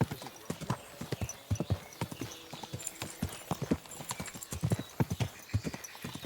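Horse hooves clip-clop in a steady, lively rhythm in the video game Kingdom Come: Deliverance 2, and a horse briefly whinnies. The sound is fairly close and plays over quiet game ambience.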